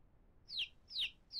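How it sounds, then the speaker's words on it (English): Three short, bright clucks from a chicken in the survival game No One Survived, evenly spaced about every half second, close and clear over a faint low hum, with no talk. "Let's put this other chicken in."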